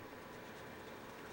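A steady rumbling rattle of model train wheels running along outdoor track, continuous and fairly even, with no voices.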